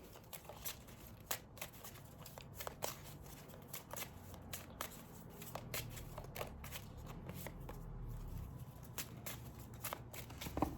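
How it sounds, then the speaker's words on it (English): A deck of tarot cards being shuffled by hand, with repeated riffles and soft slaps in an uneven rhythm over a low room hum. The sound is close and fairly quiet, and no one speaks. "I'm only shuffling at the minute."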